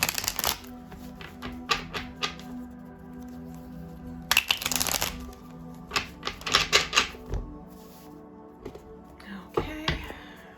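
Playing cards being shuffled during a card reading, a series of brisk riffling and tapping bursts close by, with pauses between them and faint low murmuring underneath.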